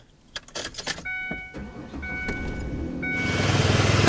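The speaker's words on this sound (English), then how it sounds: "Now we just need to go start the car," After an automatic transmission fluid exchange, a car is started: a few clicks and chimes come first, then the engine catches with a low rumble that builds and settles into a loud, steady run.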